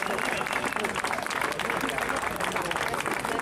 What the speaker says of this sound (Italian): Sento già la ola, sento già applausi per Gloria Marconi.